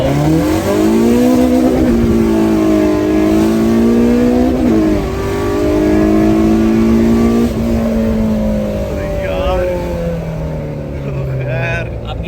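Several modified Honda-engined cars, a K24-swapped EF hatchback, an L15 FX and a B18B, rev hard and accelerate in a street race, loud engine tones climbing and shifting with gear changes, then fading as they pull away.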